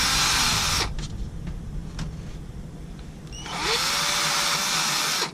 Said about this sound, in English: I'm just going to drill these out.